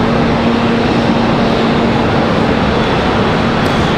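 A Boeing 777 airliner taxiing at Charlotte Douglas International Airport gives a steady, continuous broadband roar of jet engines at close range, holding even in level without pauses.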